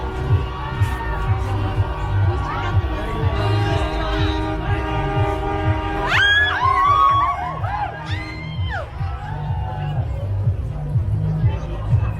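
Truck horns blare in a crowded street at a trucker convoy protest, long steady tones layered with shrieks and crowd babble, loud and continuous throughout.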